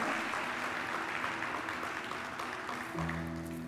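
A church congregation claps together, a dense, steady wash of applause from many hands that carries on throughout, with a low sustained musical tone entering near the end.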